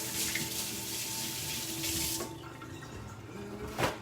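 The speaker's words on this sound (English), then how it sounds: "I'm gonna wash my hands." A kitchen tap runs steadily for hand washing, then shuts off about halfway through, leaving quiet drips and a short splash near the end.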